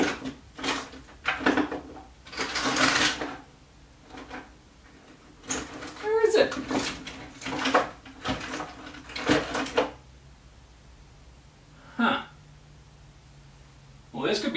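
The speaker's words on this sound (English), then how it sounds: "Drawer of miscellany." Objects clatter and shift as someone rummages through a drawer of miscellaneous cables and odds and ends, in several bursts of rattling and knocking, with a person speaking intermittently between them.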